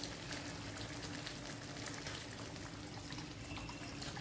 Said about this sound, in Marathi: आता यामध्ये पाणी घालते।